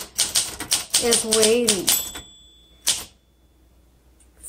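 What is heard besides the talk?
1961 Olympia SM7 typewriter typing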